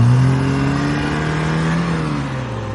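A car engine hums steadily as the car arrives, with a low tone that eases off near the end as it slows to a stop. The sound is close and fairly loud, and no one speaks.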